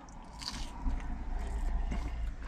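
Quiet crunching bites into crisp fish-and-chips batter, a few crackly chews close to the mic with soft background hiss.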